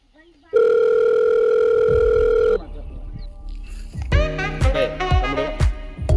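A steady electronic phone ringing tone from a call in a Telugu short film sounds for about two seconds, loud and alone, then gives way to background music with plucked, melodic notes.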